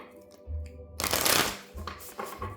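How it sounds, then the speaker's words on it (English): A deck of oracle cards being shuffled by hand, a brief soft riffle swelling into a louder burst of cards snapping and sliding before easing off, heard close up indoors with a low hum beneath. "So let's shuffle from this and see."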